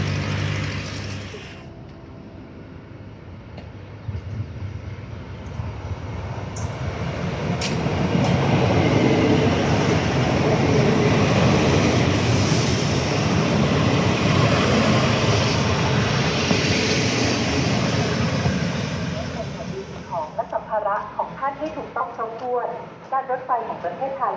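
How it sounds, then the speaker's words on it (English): A three-car BREL Class 158 Sprinter diesel multiple unit pulls into a Thai station platform, its engine and wheel rumble swelling to a loud sustained roar before easing off, with platform announcements and voices around it. "So the train has now arrived."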